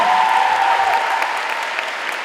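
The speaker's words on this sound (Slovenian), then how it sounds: "Tako, da vas lepo naprošam, če z aplavzom pozdravite Lejo Blanko in Stašo Jezovšek Špilja." A dense wash of audience applause welcoming two co-hosts at a Centrovizija 2023 show, steady and loud from start to finish with a faint tonal hum running through the first second.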